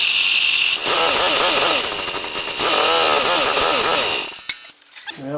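A lawn tractor engine cranks and tries to catch, a loud, rough, pulsing mechanical churn that surges and wavers for about four seconds before dropping away into quieter knocks.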